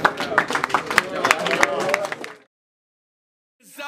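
Dense clapping and cheering from a rap battle crowd, loud and close, with voices mixed in for about two and a half seconds before cutting to silence, then a brief return of noise.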